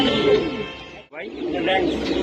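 Domestic pigeons coo steadily in a loft, with people talking over and between the low calls.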